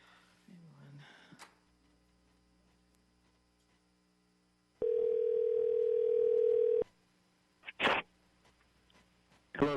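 A steady telephone dial tone rings out alone for about two seconds while a call is placed to a speaker phoning into a redistricting task force meeting, followed by a few short clicks and bumps.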